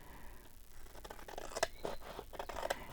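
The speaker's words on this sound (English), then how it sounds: "I think I'm going to cut out that side." Scissors cutting paper: a quiet series of close snips and crisp rustles, several cuts in irregular rhythm, no voice.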